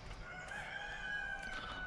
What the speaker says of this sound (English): the roosters are awake